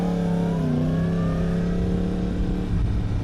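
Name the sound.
car passing by on the road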